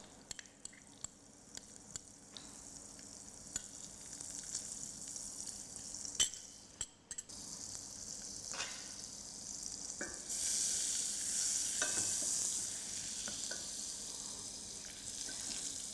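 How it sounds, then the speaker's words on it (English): Fifty grams of margarine melting in a pan, a faint crackling sizzle with scattered small pops and a few clinks of a utensil, the frying hiss growing stronger and steadier toward the end. "Here I have 50 grams of margarine, which I'm going to melt."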